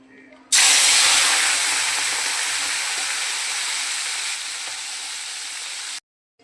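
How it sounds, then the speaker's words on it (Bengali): Loud, steady sizzling hiss of shrimp dropped into hot oil, starting abruptly and fading slightly before cutting off. "তেলটা গরম হয়ে গেছে, এবার আমি চিংড়ি মাছগুলো দিয়ে দিচ্ছি।"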